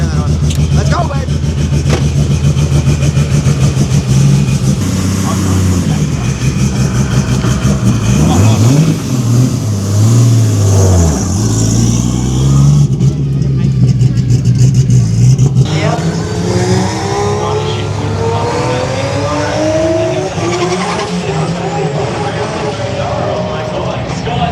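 Nissan GT-R race car on a track, its engine revving up through short-shifted gears with rising and falling pitch sweeps, loud and close, later easing off amid wind rush and voices.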